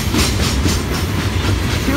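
An FEC freight train, number 206, passes at Stuart, a loud continuous rumble with rolling wheel clatter and hiss filling the whole stretch.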